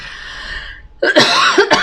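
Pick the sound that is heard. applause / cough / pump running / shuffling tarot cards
cough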